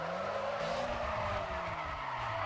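Tires squeal in a sustained skid as a car drifts around Infineon Raceway in Need for Speed: ProStreet, a loud continuous screech over engine roar with shifting pitch.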